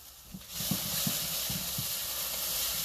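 Garlic sizzles in a hot pan, a steady broad hiss that swells in at the start and holds loud and close, with faint low knocks underneath and no talking.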